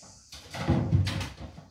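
A household door is opened to let a cat in, giving a short creak and rattle of the handle and frame, close by and moderately loud, with a faint high hiss in the background.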